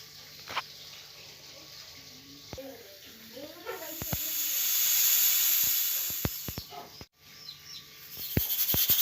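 Steady hiss of steam rising from a pot of dal boiling on a stove, swelling and fading, with scattered clicks and a brief kitchen clatter around it.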